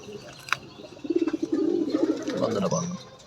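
A teddy pigeon in a loft cooing in a series of soft throaty pulses that rise into a longer rolling coo, close by, with someone talking over and around it.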